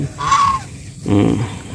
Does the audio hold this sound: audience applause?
no